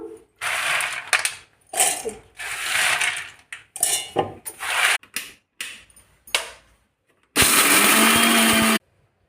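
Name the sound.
mixer grinder grinding peanuts and dry chillies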